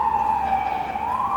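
An emergency vehicle siren wails outside in Los Angeles, a steady sweeping tone heard at moderate distance through an open window, with no talk over it.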